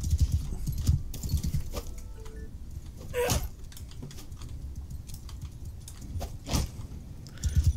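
Horse hooves clopping in Mount and Blade II: Bannerlord, the Vikings Storm mod, in an uneven run of soft thuds with a few sharper clatters, moderately loud against a low rumbling battle background.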